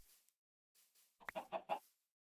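A brown chicken in the Minecraft video game gives a quick run of three or four clucks, clear and close, after a few faint hissy bursts.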